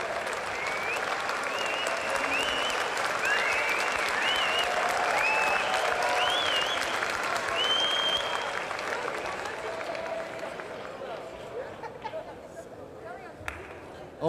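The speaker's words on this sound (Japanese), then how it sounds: "大きな拍手が送られました。" A crowd at an NWA heavyweight title wrestling match between Ric Flair and Genichiro Tenryu applauds steadily for a long stretch, with whistles and crowd noise, while a commentator talks over it.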